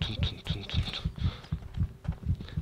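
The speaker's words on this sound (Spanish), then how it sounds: "No sé si escucháis el latido de tun tun tun tun tun tun." Rhythmic game heartbeat from Overlord, a steady series of deep low thumps about every quarter second, fairly loud and continuous, with faint game noises above and no one speaking.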